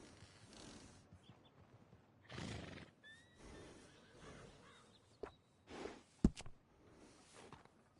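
A horse in the video game Red Dead Online whinnies a few times at moderate distance, with faint hoof clops and rustling in between.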